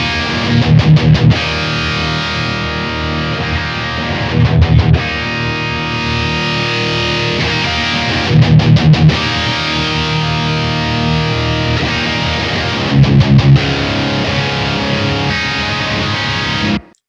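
Heavy distorted electric guitar through a Blackstar St. James 100 amp, thick saturated chugging riffs with palm-muted bursts and sustained chords, loud and continuous, with the presence control adjusted, no talking.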